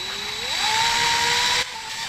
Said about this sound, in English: we're going to use a 7/32 drill bit, as per the instructions, to drill 4 pilot holes